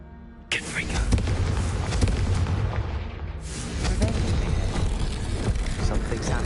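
Repeated Confringo fire spell explosions in the Hogwarts Legacy video game, loud booming blasts that start abruptly and run continuously, with a second burst partway through.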